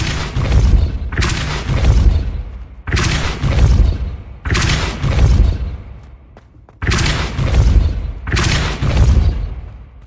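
Depulso spell cast in the video game Hogwarts Legacy: a series of heavy, booming blasts in paired bursts, each ending in a rumbling decay, with brief quieter gaps between the groups.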